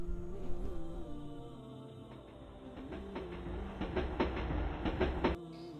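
An overnight passenger train runs on rails toward Chattogram station, with a steady rumble and a rhythmic clickety-clack of wheels over rail joints that grows denser and louder near the end, then drops off abruptly.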